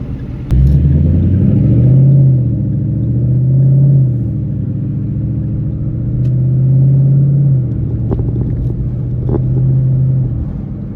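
2014 Ford Mustang GT with a 5.0 V8, cruising and rolling through gears in sport shift mode, a loud in-cabin rumble that rises, drops at each shift and settles, with a few faint pops near the end.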